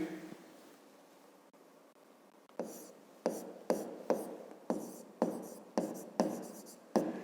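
Pen or pencil writing on paper while marking points in a 5th-grade geometry exercise, heard as a quiet stretch followed by about a dozen short, evenly repeated scratchy strokes, close and clear with no talk.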